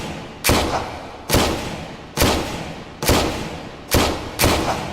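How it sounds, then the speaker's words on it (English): Six loud gunshots in the H3VR virtual reality shooter, evenly spaced about a second apart, each a sharp close crack trailing off into a short echoing decay. "I hope you can hear me over the gunshots."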